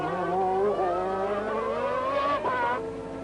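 Formula 1 race cars, with Alesi's Ferrari leading, racing in 1991: a high, sharp engine scream that climbs steadily in pitch, a brief shift-like dip, then a lower note as the car passes.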